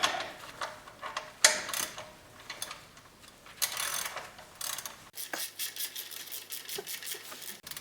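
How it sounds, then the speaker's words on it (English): A ratchet with a 13mm socket loosens the oil drain plug on a Dodge Charger 392 Widebody, a close series of rapid clicking ratchet strokes with short pauses, the pawl rattling steadily toward the end. "I'm going to take my ratchet with my 13mm socket, and I'm going to unscrew this oil drain plug."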